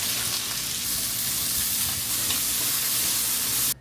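Sliced onion and button mushrooms sauté in a little oil, a close, loud, continuous sizzle with stirring that cuts off abruptly at the end.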